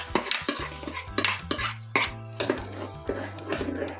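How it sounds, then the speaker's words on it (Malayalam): Mustard seed tempering being stirred into a lentil and spinach curry, a spoon scraping and clinking against the pot in repeated strokes about every half second, close and clear with faint sizzling beneath. "കടുകൊക്കെ ഇങ്ങോട്ട് താളിച്ച് വയ്ക്കാം"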